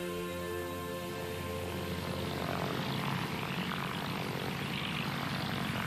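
A SAAB S-17 propeller aircraft engine from 1940s Sweden drones steadily and evenly. Its hum grows slightly fuller and rougher toward the end, with no voices.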